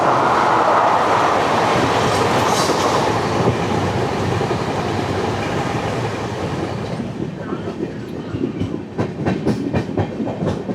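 A Gandhidham–Tirunelveli Humsafar Express rolls along the main line toward Kanhangad station, its loud, steady rumble filling the space, with sharp clickety-clack wheel beats growing more distinct near the end.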